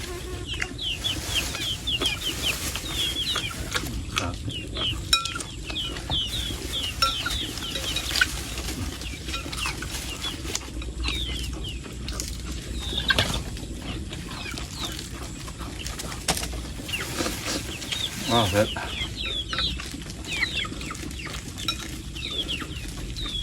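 Chickens cluck and a rooster calls around a rice field in rural Thailand, with scattered close and distant bird sounds and some wing flapping over steady outdoor background noise throughout.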